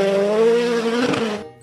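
A toy race car gives a brief, loud, buzzy engine-like whine with a steady pitch, lasting about a second and a half before stopping abruptly.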